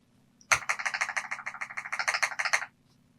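A blue switch button on a leverless game controller is pressed rapidly, giving a crisp, close burst of about two dozen sharp clicks over two seconds, alone against a faint background hum.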